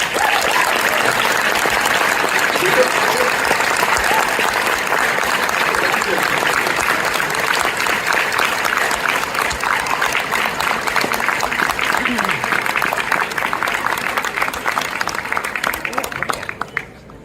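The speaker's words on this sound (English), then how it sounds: "I appreciate the warm applause" Sustained applause from a large conference audience, dense steady clapping that carries on throughout and tapers off at the very end.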